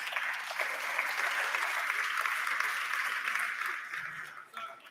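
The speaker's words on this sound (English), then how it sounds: "Big applause for Vlad." Sustained applause from a congress audience, steady broadband clapping that holds for several seconds before tapering off near the end.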